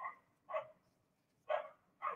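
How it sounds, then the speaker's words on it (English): A dog barks three times in short, sharp bursts, sounding somewhat distant and faint against a quiet room. "Barking again."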